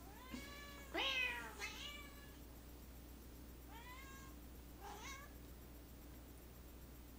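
A cat meows several times in short, rising-and-falling calls, two close together near the start and two more a few seconds later, fairly quiet.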